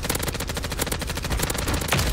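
Rapid automatic fire from an MCW rifle in the video game Warzone, a dense continuous burst of gunshots throughout, loud and close with no talking.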